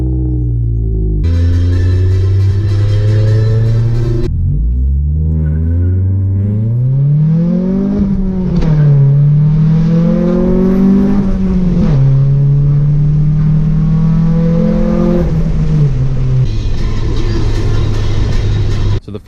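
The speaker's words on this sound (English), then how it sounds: "We're gonna do a 0 to 60 test with the hot air intake versus the stupid, dumb, idiot cold air intake." A car with its hood removed accelerates hard in a 0 to 60 run, engine rumbling loud and close as revs climb through several gear changes, each shift dropping the pitch before it rises again.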